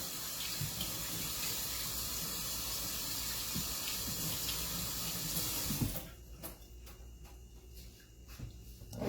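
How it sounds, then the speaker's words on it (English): Fruit rinsed under a running kitchen tap: a loud, steady gush of water for about six seconds, then the flow cuts off, leaving quieter drips and handling noises. "For the fruit. Let me rinse them off."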